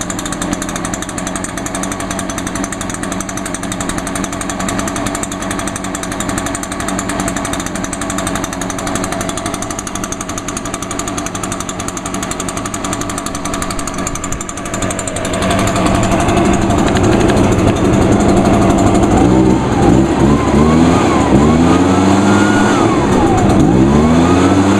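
A backpack leaf blower's small engine idles steadily and harshly, then revs up louder midway, its pitch climbing and surging in repeated bursts.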